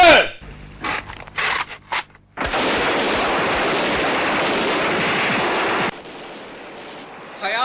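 Gunfire in a battle scene of an Urdu war drama: a few sharp isolated shots, then a long dense barrage of rapid automatic fire and booms that cuts off abruptly, with voices heard around it.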